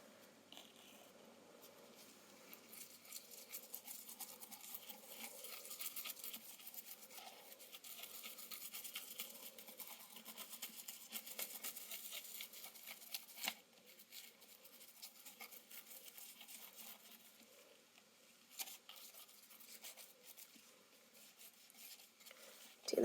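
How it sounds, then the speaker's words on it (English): A toothbrush scrubs black patina onto clean solder seams of a stained glass piece, a soft steady bristly scrubbing that runs continuously at low level with brief pauses, close and quiet, with no talking. "So now I'm just going to apply the patina with a toothbrush."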